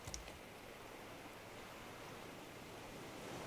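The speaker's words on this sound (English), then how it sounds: "just like watching the waves and listening to the like ambient noises" Faint, steady wash of ocean waves as ambient sound in the survival game Raft, a soft continuous hiss with no distinct breaks.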